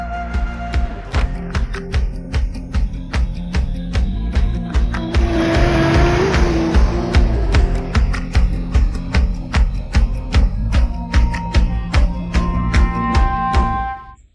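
A car revs hard and pulls away, its engine roaring with rhythmic pulsing and a throaty surge that builds midway, loud and close throughout, then cuts off abruptly at the end.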